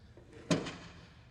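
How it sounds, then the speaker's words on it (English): The small access door on the propane tank compartment of a nuCamp Tab 360CS camper shuts with one short, close thud-click, followed by a faint rattle in quiet surroundings. "they've put this little door here"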